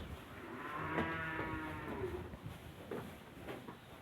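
A thirteen-month-old heifer on a dairy farm lets out a single long, drawn-out moo, fairly faint and a little distant, with soft farm noise around it.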